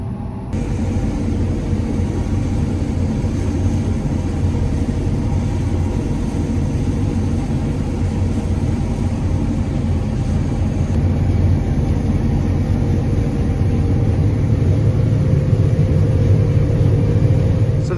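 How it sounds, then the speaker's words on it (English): A combine harvester fitted with a brand new corn head runs while combining beans, a loud continuous low engine rumble and drone that holds steady throughout, close and unbroken. "I think I'm just gonna try combining some beans and see if it acts like it's short on horsepower."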